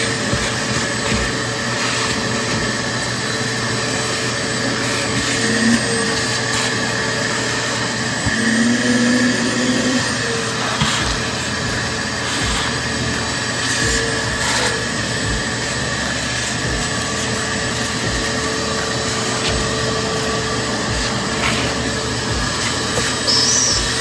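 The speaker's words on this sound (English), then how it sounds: "There's debris here, so I'm going to clean it out with my shop vac." A shop vacuum runs with a steady whine and rushing airflow while cleaning debris out of a flywheel during a starter replacement on an Infiniti QX56, continuous and fairly close.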